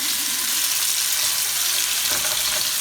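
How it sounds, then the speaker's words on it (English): Steak browning in olive oil in a frying pan, a loud steady hiss and sizzle that fills the whole stretch without pause, close up and with no voices. "the frying pan that I'm going to brown the steak in olive oil"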